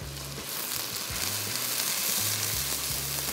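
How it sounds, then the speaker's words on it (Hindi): Onions sizzle in hot oil in a pan, giving a continuous close crackling hiss with a few soft stirring knocks and no talking. "सबसे पहला काम प्याज की फ्राइंग"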